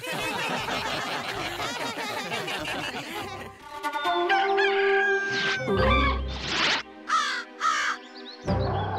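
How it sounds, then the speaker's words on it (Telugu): A rooster crows loudly several times, drawn-out harmonic calls following a busy burst of bird noise, with short pauses between the crows. "కోడి, ఈ కాళియా చాలా బలవంతుడు."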